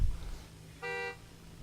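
A single short car horn honk sounds at a drift event's starting line, a steady tone lasting under half a second against a low background rumble.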